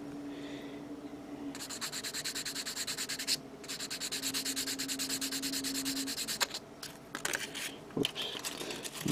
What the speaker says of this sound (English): now I'm going to sand it down